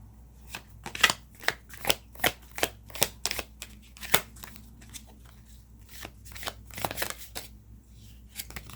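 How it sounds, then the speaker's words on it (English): Tarot cards are shuffled by hand close up, with a quick series of soft riffling snaps and slaps in an uneven rhythm, faint and alone without talk. "I'm just going to pull another card."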